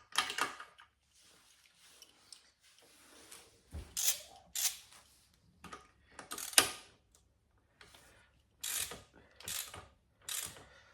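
A ratchet socket wrench tightens a spark plug on a Honda 80R dirt bike, giving repeated short bursts of rapid clicking separated by pauses, close up and crisp.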